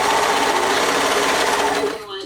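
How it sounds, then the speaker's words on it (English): A serger overlock sewing machine stitches fabric in a steady, loud continuous whir that runs slower than usual, then slows and tapers off near the end. "It is not serging great. It's working, it's just the speed of it is slower than what I'm used to working with."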